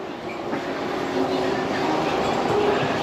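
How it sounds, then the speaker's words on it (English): A train rumbles past in Ueno, Tokyo, a steady close roll of wheels on rails with faint squeals, under a busy street with people talking nearby. "Train!"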